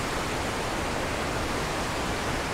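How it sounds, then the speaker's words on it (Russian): A waterfall rushing in a steady, dense, loud roar with no breaks, heard close up throughout. "Я надеюсь, шум воды вам слышен."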